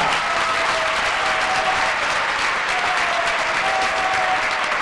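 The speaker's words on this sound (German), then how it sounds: "Ihr Applaus für Lindan vom China" Sustained applause from a large arena crowd at a badminton tournament, a dense, steady wash of clapping at full volume for nearly five seconds with faint whistles or cheers riding on top.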